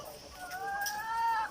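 Laying hens in a cage house give a short burst of clucking, fairly quiet and close, lasting about a second and a half.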